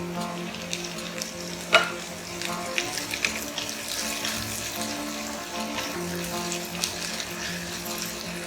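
Onions and tomatoes cook in a pan for a restaurant-style veg makhanwala, with a low sizzle, a sharp clatter near two seconds and intermittent stirring and scraping throughout.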